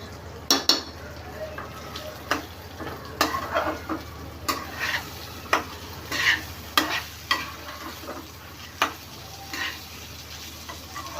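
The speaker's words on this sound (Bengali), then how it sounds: "এখন আমি চালগুলা ভেজে নেব।" A spoon scrapes and stirs rice frying in a pan for chicken biryani, a soft sizzle underneath with irregular metallic clinks and scrapes throughout.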